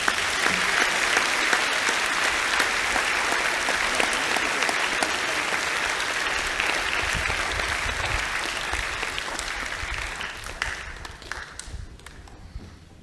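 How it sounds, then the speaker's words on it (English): A school assembly audience gives a round of applause for a group of boys, dense steady clapping that holds strong for about ten seconds before thinning into scattered claps and dying away. "Let's give these boys a round of applause."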